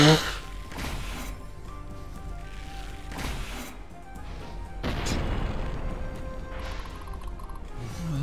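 Booming cannon blasts in a battle in the game Symphony of War, several heavy bursts spread across the clip with a rumbling, clattering background.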